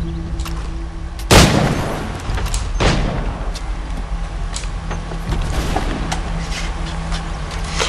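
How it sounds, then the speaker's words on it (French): A single loud gunshot in the video game Assassin's Creed III rings out early, with a softer bang later, over a constant mechanical game background. "Premier coup de feu."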